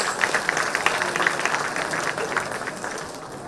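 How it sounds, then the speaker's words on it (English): Audience applause at a decade celebration for a computer science batch, a steady wash of many hands clapping at moderate level for several seconds with no talk over it. "Shall we give a round of applause to the Bash Computer Science?"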